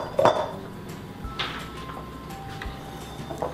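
A large mixing bowl being handled in a home kitchen, a few close clinks and knocks of the bowl being set down and moved, with light scraping between them.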